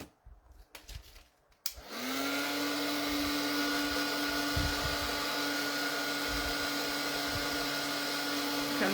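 After a few quiet handling noises, an embossing heat tool switches on and blows with a loud, steady whir for the rest of the clip, heating embossing powder on a pop-up winter card.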